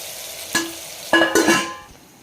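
Bottle gourd cooks in oil in a pan with a metal lid. Three sharp, ringing metallic clanks from the lid and pan rise over a faint, soft frying sizzle, and the ringing fades away after the last clank.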